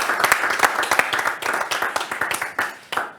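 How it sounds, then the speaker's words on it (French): Applause from a live audience at a startup accelerator demo day event, a dense run of many hands clapping close and fairly loud, with sharp individual claps standing out before it thins toward the end. "On peut vous applaudir et vous pouvez vous applaudir"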